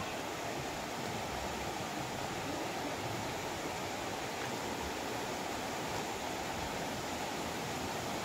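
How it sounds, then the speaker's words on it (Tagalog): Steady rushing water from a stream (batis) near a campsite in Real Quezon, heard as a constant, even wash of noise with no voices throughout. "Tapos makikita na po natin yung batis."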